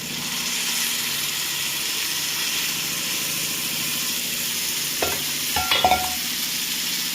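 Black-eyed peas (alasandi) frying in a pan, a steady sizzle throughout with a few clattering stirs of a spoon near the end, close and moderately loud.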